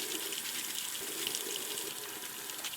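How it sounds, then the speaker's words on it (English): Steady rush of running tap water splashing while hands are washed at a sink, close and continuous with no talk. "I'm gonna go wash my hands."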